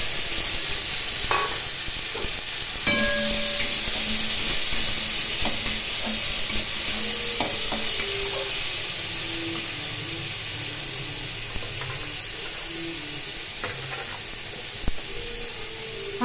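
Chopped onions and soaked red lentils sizzle and hiss steadily in a hot pan, with a few scattered stirring clinks and scrapes over the frying.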